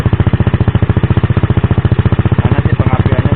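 Motorcycle engine idling steadily after an ignition check, loud and close, an even rapid thumping pulse of about a dozen beats per second that holds throughout with no speech.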